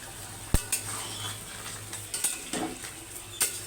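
Fish head and potato curry cooking in a pan, with soft spoon-against-pan clinks and stirring scrapes scattered over a faint background sizzle, several sharp close taps standing out.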